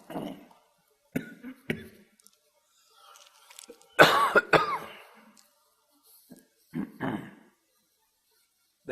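Several sharp coughs from a person indoors near a running fan, in scattered bursts with throat clearing, loudest in a cluster of hacking coughs midway, then a few more near the end.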